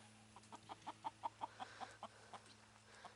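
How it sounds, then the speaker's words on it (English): A hen kept in a goat pen clucks in a steady series of about a dozen short, evenly spaced notes, faint and somewhat distant over a low background hum. "We have a special needs chicken spending some time up here with the goats."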